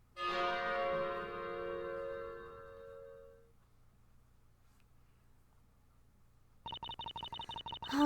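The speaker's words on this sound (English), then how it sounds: "I just really want to ring that bell." A church bell in the Professor Layton vs Phoenix Wright video game rings one loud, bright stroke that decays slowly over about three seconds, followed by quiet and then a rapid, buzzy pulsing tone near the end.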